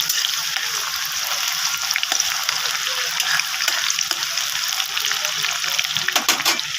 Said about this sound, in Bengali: তেলটা গরম হয়ে গেছে। তো এখানে আমি তেজপাতাটা ছেড়ে দিলাম, তারপরে পেঁয়াজটাও দিয়ে দিলাম।